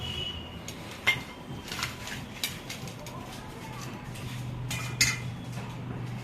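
Fried bhajiya are lifted out of the oil into a dish, giving soft clinks and scrapes of a metal utensil against the plate. A few sharper taps ring out over a low background hum.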